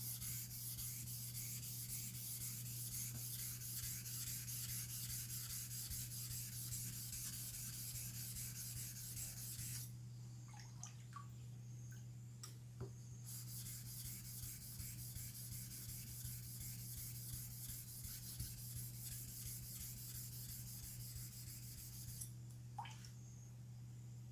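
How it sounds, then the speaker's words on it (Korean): Slow, steady rubbing strokes of a high-speed steel carving knife scraping across a whetstone, broken by two brief pauses with small clicks, close and fairly quiet over a low hum. "그리고 가볍게 연마를 합니다."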